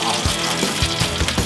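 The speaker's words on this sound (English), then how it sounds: "You hear that sizzling?" Chicken wings sizzle loudly in hot frying oil, a close, continuous crackle with small pops.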